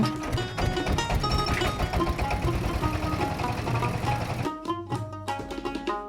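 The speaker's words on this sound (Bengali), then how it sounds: "এখন নৌকার মেশিন স্টার্ট দিবে প্রিয় বন্ধুরা মেশিনটি স্টার্ট দিল" A boat engine on Patul beel starts up and runs in a loud, close, rapid knocking chug, then the tone drops into a steadier idling rhythm near the end.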